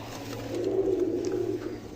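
A pair of pigeons coos softly nearby, with one low, rolling coo swelling and fading over a couple of seconds against quiet background hum.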